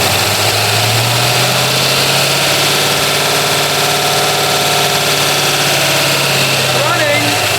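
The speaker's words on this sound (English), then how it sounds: "It ran. It idled high though, which is a little bit odd." A 1966 Ford Mustang GT fastback V8, long abandoned, runs loud and close at a steady high idle. Its rumble fills the whole stretch without a break.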